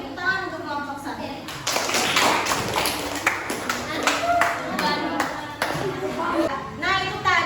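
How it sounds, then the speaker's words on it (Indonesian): Classroom of students clapping for a group, a lively stretch of uneven hand claps with scattered taps, while children and a teacher talk throughout. "Kita beri tepuk tangan untuk kelompok 1."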